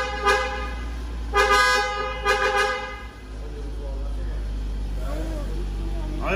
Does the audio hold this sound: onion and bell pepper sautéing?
no